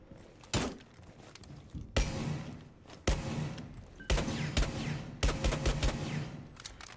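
Bursts of gunfire in a competitive first-person shooter video game, five loud broadband volleys roughly a second apart, each a sharp crack with a short rattling tail over a steady in-game background.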